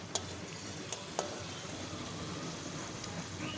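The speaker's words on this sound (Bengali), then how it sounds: "এটাকে একদম মাঝারি আঁচে লাল করে ভেজে তুলে নেব" Potato slices fry in oil over medium heat with a faint, steady sizzle, broken by a few sharp clicks and pops.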